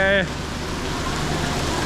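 Heavy rain pounding down on a sleeper train in Vietnam, a dense steady hiss of downpour filling the whole stretch, loud and close, after a brief tonal blip at the start.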